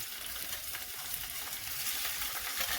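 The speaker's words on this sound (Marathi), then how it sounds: "आता आपलं तेल कसं छान तापलेलं आहे आपण काय करूयात कांदा परतून घेऊयात आधी" Onion sautéing in hot oil on a griddle, a dense continuous sizzle and crackle that stays steady and close throughout, with no talk.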